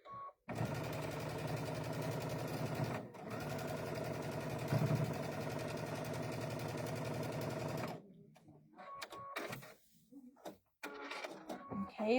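A sewing machine stitches a quilted Double Stars pillow, running in one steady, busy whir for about seven seconds before stopping. Quieter handling sounds and faint talk follow.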